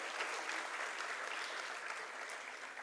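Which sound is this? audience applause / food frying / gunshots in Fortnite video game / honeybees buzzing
audience applause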